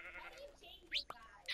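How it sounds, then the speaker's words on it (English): Quiet sheep bleats from the Minecraft video game come in a couple of short, thin cries amid soft background game sounds. "It's a sheep."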